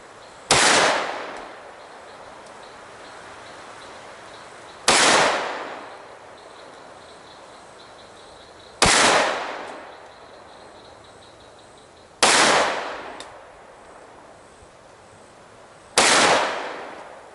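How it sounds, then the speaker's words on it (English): Five loud 10mm Atomic ammo gunshots fired over a chronograph, each a sharp crack with a short decaying echo, evenly spaced about four seconds apart, with outdoor quiet between them. "we're going to take 5 shots at the chronograph"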